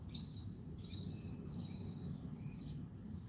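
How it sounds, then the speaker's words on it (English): Bird chirping outdoors, a few short high tweets repeating at a moderate pace, fairly distant and soft over a low background rumble, with no talk. "You hear that bird?"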